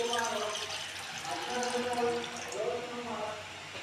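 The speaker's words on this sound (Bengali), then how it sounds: "প্রথমে একটি পাত্রে দিয়ে দিচ্ছি জল" Water pours steadily into a cooking pot for a few seconds with a continuous splashing rush and faint gurgling, moderately quiet, with no talking.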